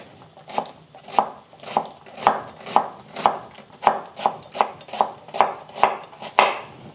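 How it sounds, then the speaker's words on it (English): A knife slices a medium onion top to bottom on a cutting board, about a dozen crisp, evenly spaced cuts in a steady rhythm, close and clear with no talking. "I actually prefer slicing my onions top to bottom."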